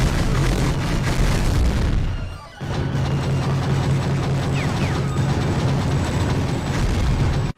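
Dense, continuous rattling gunfire with low booming blasts from the PS2 game Gungrave, loud and unbroken except for a brief dip partway through.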